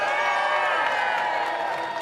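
Dense roar of a tennis crowd cheering and clapping at a United Cup match, loud and sustained throughout with no clear pauses.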